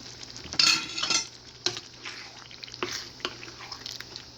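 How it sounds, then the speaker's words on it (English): A spoon stirs ground meat in a frying pan, giving scraping strokes and clinks against the pan over a low background sizzle, close and fairly loud. "Add it to the ground meat like that. I'm going to stir it up."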